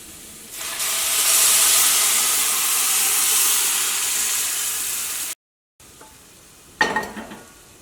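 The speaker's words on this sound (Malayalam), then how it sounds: "ഇതിലേക്ക് നമ്മൾ വേവിച്ച് വെച്ചേക്കണ ബീഫ് ചേർക്കാം" Cooked beef dropped into a hot pan for beef curry, a sudden loud sizzling hiss that holds steady for several seconds, then a brief cut and some clattering stirring noises.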